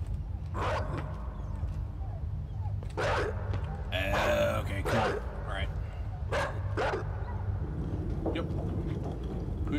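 A dog barks and yips in the video game Inside, several short bursts spread across a steady low background drone, with a player talking over it.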